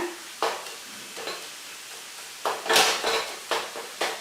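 A ladle presses and mashes tomatoes in a pan for a tomato coconut-milk curry, producing irregular scraping knocks and clacks against the metal over a soft background sizzle.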